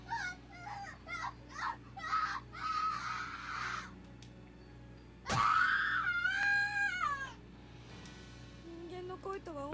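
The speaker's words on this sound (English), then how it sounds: "I've never heard screaming like this before." A boy screams in the Corpse Party video game, Chapter 4: a sudden, loud, piercing cry with bending tones, preceded by a series of shorter wails and followed by quieter fading calls against a steady low game ambience.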